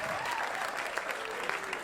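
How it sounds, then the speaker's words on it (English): A comedy club audience at Gotham Comedy Club in New York applauds, a steady dense clapping that lasts throughout, with a voice heard over it. "clap for Tim Meadows, everybody."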